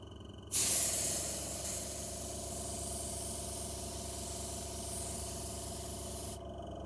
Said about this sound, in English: I've been airbrushing.